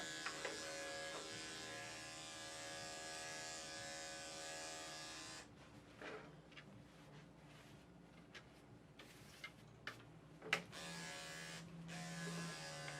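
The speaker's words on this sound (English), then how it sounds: "You notice I'm turning my clippers off as I work." Electric clippers buzz steadily while trimming a Yorkie's long, silky coat, then are switched off partway, leaving faint handling clicks and light taps in a quiet room.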